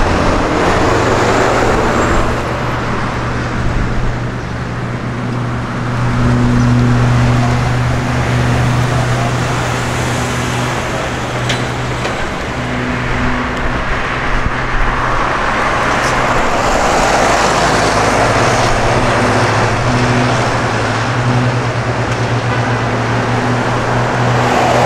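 Traffic on a main road where buses pass in San José, Costa Rica: loud, continuous roar of cars and buses with steady engine drones and passing swells, no voices.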